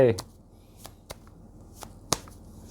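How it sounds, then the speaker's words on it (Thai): Tarot cards being handled and drawn, a few sharp, separate snaps and flicks of card against card spaced across a quiet background, close and moderately loud. "มาลุ้นกันใบสุดท้ายวันนี้นะครับของวันนี้ไพ่จะได้อะไร"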